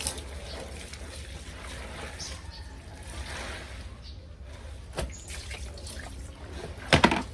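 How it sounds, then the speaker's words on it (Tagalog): Water splashing and sloshing as laundry is rinsed by hand in a basin, a steady wet churning throughout with a sharper splash near the end. "Babalawan muna isang banlaw."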